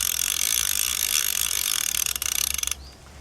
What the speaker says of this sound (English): Nice sound of ratchet.